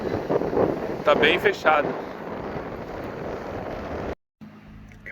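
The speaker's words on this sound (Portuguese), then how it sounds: "não tá dando pra gravar lá fora não, por causa do vento" Strong wind buffets a phone microphone outdoors with a storm approaching over the sea, making a loud rumbling roar with gusts, then it cuts off abruptly as someone speaks briefly.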